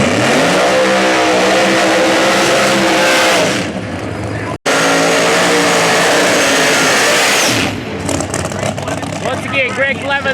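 ProMod drag racing cars launch at US 131 Motorsports Park during Shakedown qualifying, a loud, sustained roar of high-powered engines that cuts off briefly and surges again, with an announcer's voice running underneath.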